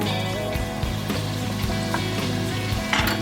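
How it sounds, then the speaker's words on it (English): Meat sizzles and fries steadily in a pan, a dense continuous crackle with small spatters and pops throughout, close and fairly loud, with no voices. "So I put in the meat."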